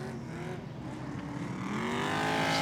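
An Ultra4 off-road race car engine revs and builds steadily, its roar rising in pitch and growing louder as the car accelerates, alone without voices.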